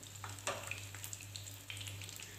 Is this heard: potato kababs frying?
yes